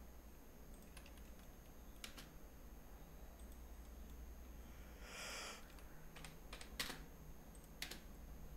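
Quiet clicks of a computer keyboard as a command is typed into AutoCAD during a plumbing layout drawing, scattered keystrokes and a short burst, with no talking.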